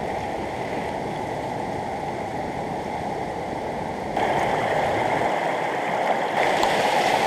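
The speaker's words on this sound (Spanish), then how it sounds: "Estoy subiendo este río" Steady broadband rushing of a river flowing over rocks, close and continuous, growing slightly louder partway through with a low thump near the end; no talking.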